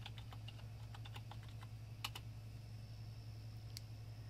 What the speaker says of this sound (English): Now I type in PowerShell.